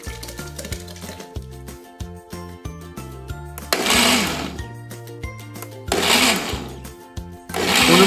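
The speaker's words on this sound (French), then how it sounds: "On passe maintenant le tout au mixeur ou blender." A kitchen blender purées homemade sweet and sour sauce in three short, loud, roaring pulses, with light tonal background music between the bursts.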